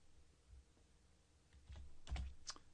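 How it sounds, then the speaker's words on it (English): Quiet, close typing of a case citation on a computer keyboard, a few scattered key clicks followed by a quicker burst of keystrokes near the end, with no talking. "So I just type in that citation, click go."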